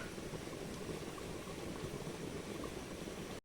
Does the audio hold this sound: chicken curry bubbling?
yes